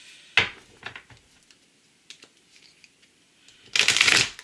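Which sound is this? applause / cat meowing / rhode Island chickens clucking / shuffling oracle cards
shuffling oracle cards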